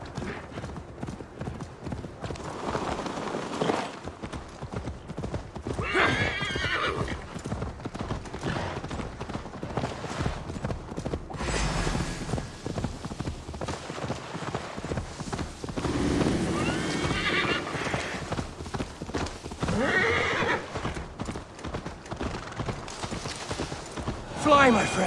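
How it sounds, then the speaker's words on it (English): In the video game Assassin's Creed Valhalla, a horse gallops with a steady clip-clop of hooves and gives several whinnies, while characters talk loudly over the hoofbeats. "Your horse is slow, and her rider's drunk!"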